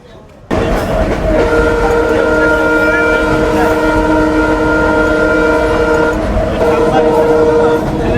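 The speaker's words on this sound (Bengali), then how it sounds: "আমাদের ট্রেনের গতি কিন্তু মারাত্মক পঁয়ষট্টি সিরিজের লোক" A crowded local commuter train pulled by a 65-series locomotive runs fast between Benapole and Khulna, its loud rushing rumble and clatter topped by a long sustained horn blast that drops out briefly and returns.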